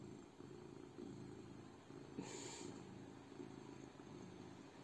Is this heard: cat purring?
yes